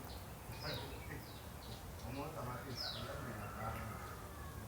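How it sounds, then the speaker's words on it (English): Faint birds chirping in the distance, with a few thin, high calls over a steady low outdoor hum. "Can you guys hear the birds chirping?"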